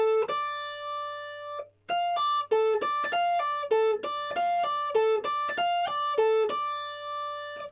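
Guitar notes sounded one at a time by rocking a finger back and forth across the strings, giving a sparse pattern of clean separate plucks with short gaps, played alone over a faint low hum.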